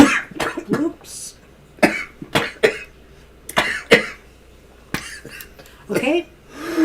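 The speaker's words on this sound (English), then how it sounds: "had a little cough attack there" A bout of harsh coughing in several bursts, close by, with brief gaps and some throat clearing between fits.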